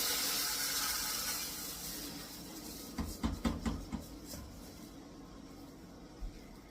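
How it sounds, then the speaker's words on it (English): Water is poured into a hot cooking pot of toasting rice for Mexican rice, starting with a faint steady hiss, then a burst of splashing, sizzling surges that fade, with one last splash near the end. "So let's go ahead and add in our water."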